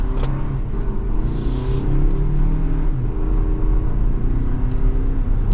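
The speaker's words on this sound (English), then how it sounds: "So it'll downshift all the way, and then getting up to speed." A 2023 Toyota Highlander Limited AWD downshifts and then accelerates onto a main road, its engine a steady, close rumble and whir that holds level throughout, heard from inside the cabin with no talking.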